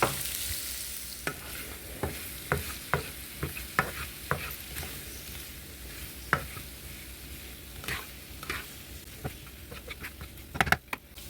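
Onions cooking in a pan with a low steady sizzle underneath, broken by a regular series of sharp taps and clicks, likely knife cuts on a board nearby, close and fairly quiet.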